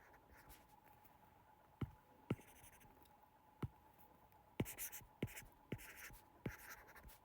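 Pen writing on paper during a physics lesson on heat and thermodynamics, quiet scratchy strokes with a series of sharp taps and clicks, close and alone over a faint steady hum.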